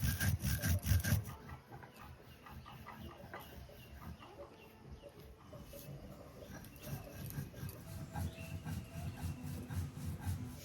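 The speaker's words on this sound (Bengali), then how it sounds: "মশলাটা একটু মচমচা থাকতে থাকতে গুঁড়ো করে নেব" Dry coriander and spices are ground on a stone slab with steady rhythmic rubbing and scraping, close and fairly quiet throughout.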